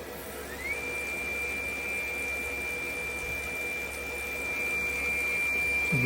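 An Ender 5 Plus 3D printer with a Mercury One.1 ZeroG conversion and BMG extruder hums steadily during a filament change, a constant mechanical drone with a sustained high whine holding throughout, close and unbroken.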